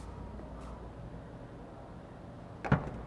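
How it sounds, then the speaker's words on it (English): The boot lid of a black 2006 Bentley Flying Spur shuts once with a single solid thud near the end, after a few seconds of quiet room tone. "Boot close."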